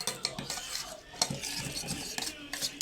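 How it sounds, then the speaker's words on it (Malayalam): Food is stirred in a pan with a utensil, scraping and clinking in quick irregular strokes over a faint sizzle, close and fairly quiet with no talk. "നല്ലോണം ഇളക്കണം"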